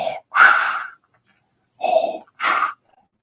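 A CPAP-style breathing mask worn over the face makes loud, hissing Darth Vader-like breaths, close up, in three rasping bursts with a silent pause after the first.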